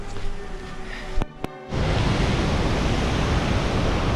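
King Creek Falls pours in heavy flow, a steady loud broadband roar of water that fills the scene after a brief quieter moment with a couple of sharp knocks.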